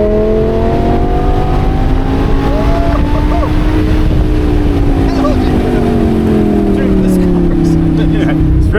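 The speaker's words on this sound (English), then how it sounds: "the sound of a V10, there is nothing like a V10" A 600 HP 2014 Lamborghini Gallardo Performante V10 at full throttle on a race track, heard from inside the car as a loud, continuous engine howl with rising and falling pitch through the gears, plus heavy wind buffeting.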